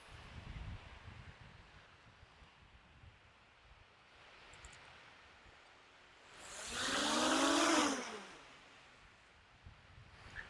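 Strong wind buffets the microphone outdoors during a small drone's test flight carrying a 360° camera, a low rumbling roar with leaf-like rustle that surges into a loud broadband gust for a couple of seconds midway before easing back.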